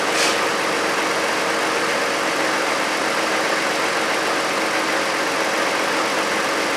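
A 2009 Toyota Avalon engine idles steadily at close range, a continuous even hum and rumble with no talk over it.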